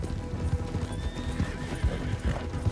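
Steady clip-clop of horse hooves with a horse neighing in a video game, dense and continuous over a busy background.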